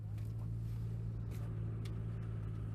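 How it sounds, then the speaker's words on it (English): A six-cylinder car engine idles steadily at a dealer auto auction, with a low, even rumble, close by and continuous, with no talking. "Sounds like a 6-cylinder"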